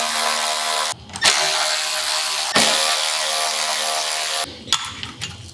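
A small electric wrench with a deep well socket running 7/16 inch bolts on a 2026 Harley Tour-Pak relocation install, two loud sustained whirring bursts broken by short pauses, close up with no talking.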